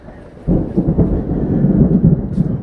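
A low, rolling rumble of thunder swells in and continues, with a steady hiss of rain underneath.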